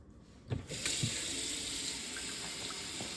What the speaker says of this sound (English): I'm just gonna fill the raw water pitcher up